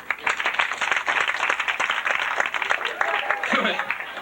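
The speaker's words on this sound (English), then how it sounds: "Just clap if you're over 30." A comedy club crowd claps steadily in a dense, continuous wash of many hands, with voices and cheering mixed in throughout.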